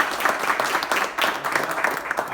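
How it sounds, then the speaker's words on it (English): Applause from the audience at a Smart City Expo networking event, a dense, steady round of clapping filling the whole moment at close range. "I think a round of applause for the calls."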